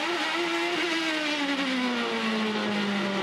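Onboard an IndyCar driven by Castroneves during the 2008 race in Australia, the engine holds a loud, steady high-pitched drone whose pitch slowly drops as the car eases off, continuous and unbroken with no talk over it.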